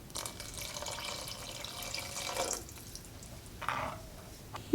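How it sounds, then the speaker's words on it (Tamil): Water runs and splashes into a cooking pot for fish curry, fairly soft, then briefly stops and trickles again near the end. "குழம்புக்கு தேவையான அளவு தண்ணி சேர்த்துக்கலாம்."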